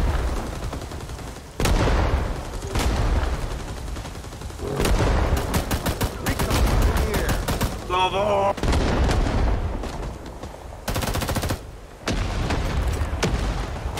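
Gunfire and explosions in the video game Rising Storm 2 come in heavy bursts of loud shots and booms, broken by brief lulls, with excited voices shouting over the action.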